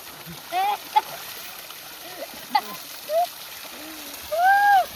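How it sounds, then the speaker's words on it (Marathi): Children bathe and play in water at a farm during a village visit, with scattered splashes and brief bursts of excited children's voices over a quiet outdoor background. "पोरांचं इथे ना मस्त आंघोळ करायचं, पाण्यात खेळायचं चालू होतं"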